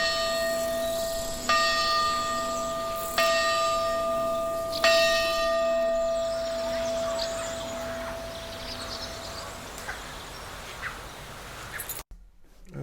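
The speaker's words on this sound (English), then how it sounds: "That bell is still too loud, so I should remix it" A bell rings with a bright, sustained tone, struck three times about every one and a half seconds, then fades slowly over a quiet outdoor background.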